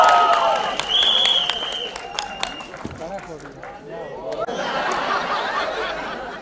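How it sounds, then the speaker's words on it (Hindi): A film trailer launch event crowd for 'Tu Jhoothi Main Makkaar', claps and cheers continuously, with whoops and chatter mixed in, building again toward the end. "जब तक ये हटेगा और जब तक ट्रेलर शुरू होगा तब तक ताली बजाता रहो"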